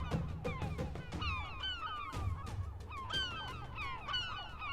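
Many gulls call over one another in a noisy seabird colony in Iceland, with repeated sharp squawks and yelping cries rising and falling.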